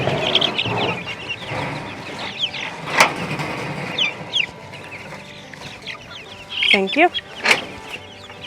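Meat chickens cluck and squawk in irregular bursts close by, with a brief spoken voice among them.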